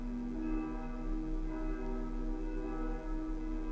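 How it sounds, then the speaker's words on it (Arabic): A bell sound effect from a sound library rings with a sustained, steady metallic tone full of layered overtones, humming evenly and quietly with no voices present. "جرس مثلا"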